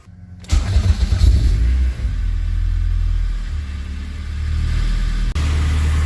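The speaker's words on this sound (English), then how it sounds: "let's go ahead, start up the engine" A Honda CRX with a K24 engine cranks and catches with a brief rev, then settles into a steady low idle rumble close by.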